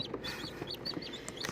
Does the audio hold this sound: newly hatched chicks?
yes